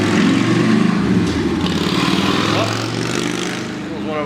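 A motorcycle rides past outdoors, a loud, rough engine drone that swells close by and then fades as it moves away, with a lower mechanical hum underneath.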